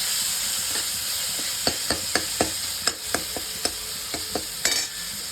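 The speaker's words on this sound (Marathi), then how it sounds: "मस्त टमाटर दाबून घेऊया." Tomatoes are pressed and stirred in a hot frying pan, giving a series of sharp, close scraping taps at an irregular rhythm over a steady background sizzle and hiss.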